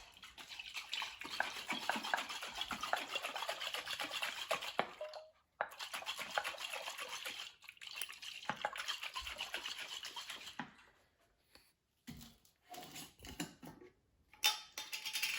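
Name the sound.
shaking salad dressing in a tightly lidded container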